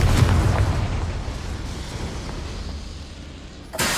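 Confringo spell explosion in Hogwarts Legacy, a loud booming blast with a long rumbling decay that fades over several seconds, followed by a brief new burst at the end.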